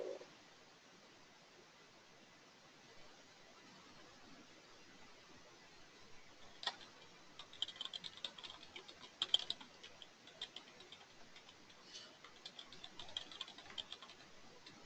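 Quiet, sparse tapping on a computer keyboard, starting after several seconds of near-silence and turning into irregular bursts of light keystrokes for the rest of the stretch. No one speaks.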